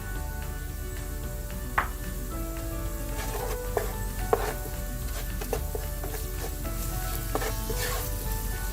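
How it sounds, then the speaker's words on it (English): Browning onions fry in a pan with turmeric and coriander powders, giving a loud, continuous sizzle broken by a few soft clicks of stirring. "my onions are browning really nicely, and so it's time to add the turmeric and the coriander powders"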